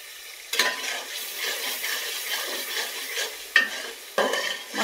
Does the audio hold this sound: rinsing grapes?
no